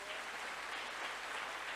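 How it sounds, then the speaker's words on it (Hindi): An audience applauds a teacher at a leadership talk, dense continuous clapping held at an even level throughout. "एक जोरदार ताली होनी चाहिए।"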